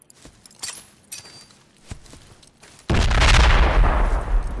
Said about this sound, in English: I'm gonna frag the crate.